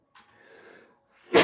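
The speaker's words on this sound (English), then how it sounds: "I'm sneezing a lot." A single close sneeze indoors: a short indrawn gasp and wheezy breath build-up, then a loud, abrupt burst at the end.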